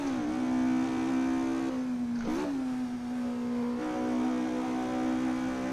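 A Ford Escort MK2 Group 4 rally car in Assetto Corsa, its engine sound taken from a Porsche, drones at steady high revs, dips briefly mid-clip as it shifts, then climbs back to a sustained, loud, close-up whine.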